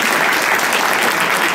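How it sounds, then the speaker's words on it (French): An audience at the Mister Black Belgium 2017 pageant applauds with a dense, steady burst of many clapping hands throughout. "applaudissez s'il vous plaît"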